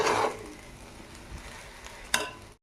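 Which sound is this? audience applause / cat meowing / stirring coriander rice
stirring coriander rice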